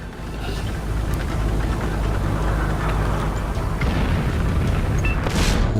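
Distant artillery fire in World of Tanks, heard as a continuous low rumbling roar with dull booms against the steady drone of a Tiger tank on the Caen map.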